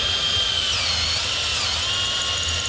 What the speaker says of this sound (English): we're gonna drill out what's left of the old threads